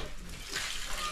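Water pours or splashes steadily, a continuous rushing wash with a few brief bubbling accents, fairly quiet and uninterrupted.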